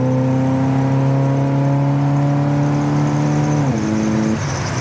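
1971 Pontiac Grand Prix accelerating on a road, with a loud, close engine drone whose pitch climbs steadily, then drops sharply as the transmission shifts up, and the engine keeps pulling afterward.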